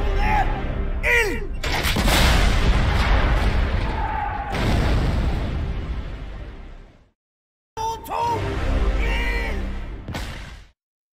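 Booming artillery fire from 28 cm Krupp coastal guns at Drøbak Sound, loud close blasts with long rumbling decays, a brief silence, then another burst, with voices shouting over them.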